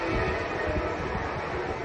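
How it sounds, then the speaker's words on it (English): An Amtrak train passes near Ventura Beach, California, as a steady, loud, broadband rumbling roar that fills the whole short stretch with no talking. "Oh, you can hear the Amtrak train."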